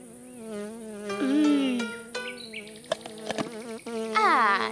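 A cartoon bee buzzes close by, a loud whine whose pitch swoops up and down in wavering bursts, broken by a few sharp clicks.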